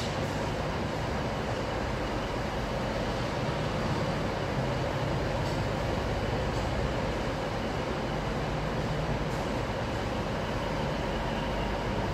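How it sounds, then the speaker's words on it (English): A Class 170 diesel multiple unit at Nottingham station, heard as a steady, dense rumble of idling engines and broad station noise that continues throughout, fairly loud with no talking. "The 170 that's on that platform has come in."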